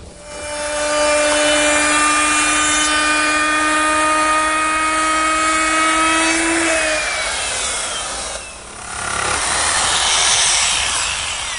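A router fitted with a 1/2 inch quarter round bit cuts a bullnose profile along a guide fence, a loud high whine that holds steady, then winds down and briefly dips before spinning up again.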